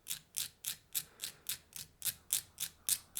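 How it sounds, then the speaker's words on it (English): Sandpaper rubs on metal fly eyes in a quick rhythmic series of about a dozen short, bright scratching strokes, close and fairly quiet, with no voices. "if you have some sandpaper,"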